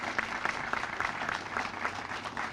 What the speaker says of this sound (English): Let's have a nice round of applause for her.